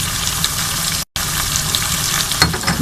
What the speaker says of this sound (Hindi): लहसुन अदरक थोड़ा सा इसे भून लेते हैं।